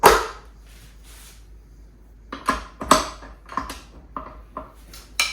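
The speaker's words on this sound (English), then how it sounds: "Go ahead and attach it to the mixer." Dough hook and mixing bowl being attached to a stand mixer, a series of sharp metallic clicks and clanks spaced irregularly over a few seconds, close and fairly loud, with no talking.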